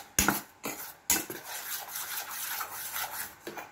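Sliced banana being stirred with coffee cream and cinnamon in a pan for maruya with oatmeal, heard as soft scraping and rubbing strokes with a few sharper knocks early on, close and unaccompanied by talk.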